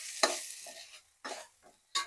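Okra tipped into a hot pan and stirred, three short bursts of sizzling and scraping separated by brief near-silent gaps, close and moderately loud.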